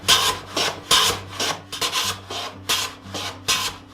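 A block plane shaves end grain wood in about nine quick, rhythmic strokes, each a crisp, raspy swish, close and clear with no talking.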